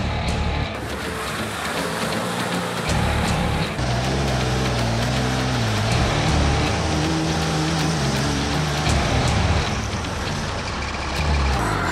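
The Boosted Moose, a Havoc-style off-road race vehicle, drives a course with a loud, continuous engine roar that rises and falls with throttle changes, close by and alone without talk.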